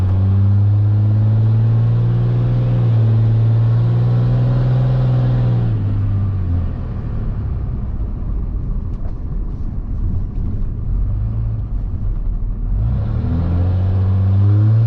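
Heavy, steady drone inside the cab of a 2006 Cummins truck fitted with a 5-inch MBRP exhaust. The loud engine hum holds a low pitch, sags in the middle, then rises again.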